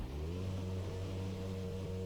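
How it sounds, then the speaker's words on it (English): Formula RSS Supreme open-wheel race car engine running in the Assetto Corsa racing game, a steady close idle drone with a low rumble, alone and unbroken. "waiting for plus 15 to start the engine"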